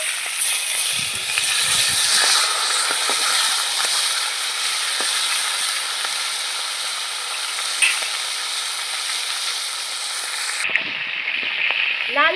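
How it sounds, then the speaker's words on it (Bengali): Rohu fish heads coated in turmeric and salt fry in hot oil in a kadai, giving a steady, loud, bright sizzle and hiss throughout, with a few soft clinks near the start and a brief change in tone at the end. "রুই মাছের মাথাগুলো লাল করে ভেজে নেবো"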